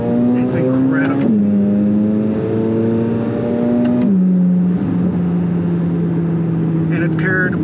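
A Chevrolet Corvette C8 Z06 with a rapid dual-clutch automatic drones loudly and steadily up close, its engine note dropping in pitch at each gear change.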